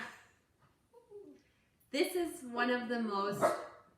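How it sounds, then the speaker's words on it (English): A dog in a home kitchen gives a few soft whimpers, then a longer, louder drawn-out whining howl that rises and falls, close by and with no talking over it. "my dog Penny is watching me and making noises"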